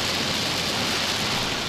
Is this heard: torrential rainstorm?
yes